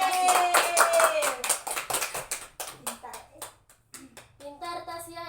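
Young children in a classroom clapping their hands together in quick uneven rhythm, with an adult voice and children's cheering mixed in over the clapping, then scattered claps and talk as it winds down.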